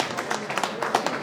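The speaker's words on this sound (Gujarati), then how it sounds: "આપણા સમાજના ભવિષ્યની તાળીઓ આપણે વગાડીએ છીએ." An audience claps at a community wedding gathering, a brief burst of applause from a crowd, with talk heard alongside it.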